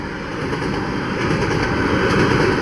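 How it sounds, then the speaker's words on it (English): An empty freight grain unit train rumbles past in Eureka, Washington, steadily with a dense, continuous roar and rattling, loud and close, with no voices. "Guess you call that a unit train, all the same cars."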